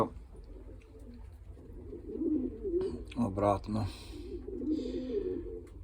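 Pigeons, including a French breed and sprinters, coo in a loft with low rolling throaty calls repeated close by, while someone speaks briefly over them.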